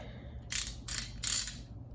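A GearWrench 84-tooth locking flex-head ratchet gives three quick bursts of fine, rapid clicking, close and fairly quiet, with no talking.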